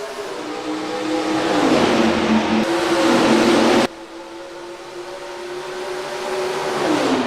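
A pack of NASCAR stock cars in the NR2003 racing game roaring off the start at Hampton, Georgia, their engine drones rising and sliding in pitch, loud and sustained with no voices.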